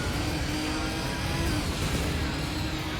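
Race car engine heard from the bumper camera in the Gran Turismo 3 video game, a steady, loud, buzzing roar held at high revs throughout with no break.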